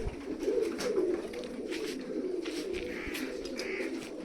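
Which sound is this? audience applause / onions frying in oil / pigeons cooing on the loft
pigeons cooing on the loft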